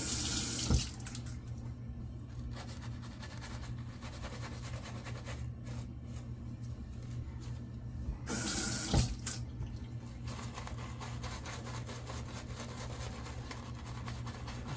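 Water runs steadily from a tap into a sink, a loud continuous rushing stream close by, briefly louder at moments as the flow shifts, with no talk.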